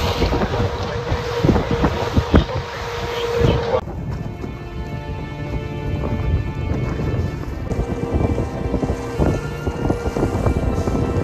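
A dolphin-watching tour boat off the Algarve coast runs through wind, with heavy gusty wind rumble buffeting the microphone over the low drone of the motor and the wash of the sea.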